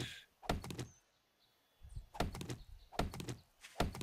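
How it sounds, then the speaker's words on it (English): In the video game 7 Days to Die, a door closes with a series of heavy, rapid thuds that repeat in four bursts, separated by short quiet gaps, with no talk over them. "Can somebody close the door?"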